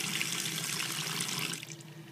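Water runs steadily from an improvised, repaired faucet that does not shut off, a continuous close splashing stream into a sink that eases slightly near the end.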